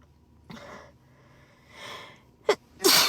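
A woman sneezes, with a softer inhale and partial sneeze early on, then a sharp catch of breath and a loud, bright final sneeze close to the microphone.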